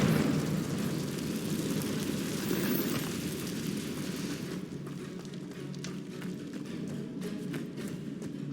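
A Confringo explosive spell in Hogwarts Legacy bursts with a loud rushing, fiery roar that lasts several seconds, then gives way to fainter crackling and scattered taps.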